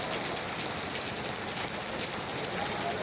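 Steady rain falls over Bhangar after a severe heat wave, a dense, even hiss of drops on surfaces that never lets up for the whole stretch.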